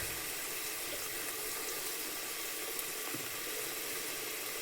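A soft, steady sizzle of pumpkin and chana dal frying with salt and spices in a pan, quiet and continuous with no voices.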